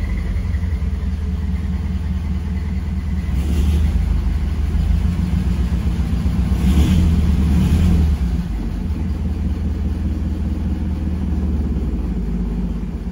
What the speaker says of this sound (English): It idles pretty well without the choke, not long after it starts.